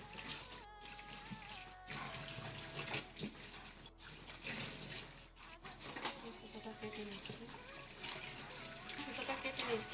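Running water and splashing as a batik bed sheet dyed with vat colours is rinsed and washed by hand, a continuous close wash of water with intermittent sloshing surges.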